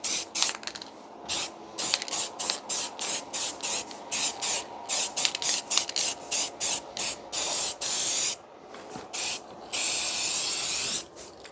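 Etch primer hisses from an aerosol can onto a Proton Satria car panel in a rapid series of short close bursts, ending with a few longer sprays, with no talk over it.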